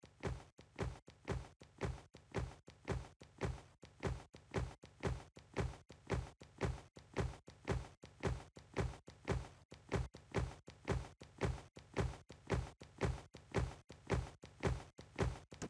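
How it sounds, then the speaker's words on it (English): Footsteps in the PC video game Artania thud at a steady, even walking pace, each step a dull, low thump repeating many times in a mechanical rhythm with no talk. "Footsteps sounds a bit weird."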